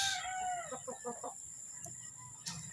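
Maclean hatch gamefowl rooster giving a short, faint run of clucks and a brief crow-like call, heard at a distance.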